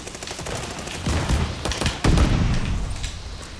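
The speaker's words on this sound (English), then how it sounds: "Man, I'm murdering with this pistol here." Pistol gunfire in the Call of Duty: Vanguard video game, with a rapid string of close, punchy shots and thuds over game ambience that grow heavier toward the end.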